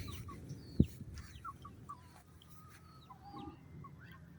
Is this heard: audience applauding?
no